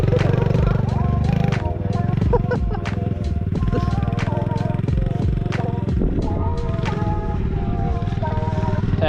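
Dirt bike engine revving steadily nearby with gear changes and clattering as a woman rides her first dirt bike and pops a small wheelie, voices talking over the motor throughout.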